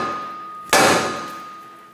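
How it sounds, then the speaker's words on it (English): A single sharp metallic sledgehammer strike on the steering knuckle of a Chevrolet Sonic rings out, loud and close, its tone decaying slowly over the following second. "Now we're going to give it a tap right here with a sledge hammer"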